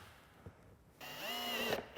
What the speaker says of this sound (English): So we're going to go ahead and drill those two holes.